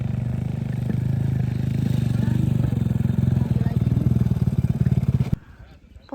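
A motorcycle engine on a mountain hiking trail rumbles loud and close with a rapid, pulsing clatter, then cuts off abruptly near the end, leaving quiet.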